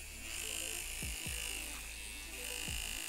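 Steady close buzzing from a cheap AliExpress tattoo machine sold as a fake Dan Kubin, a bright electric drone with a few low thumps passing under it, heard on its own without talk.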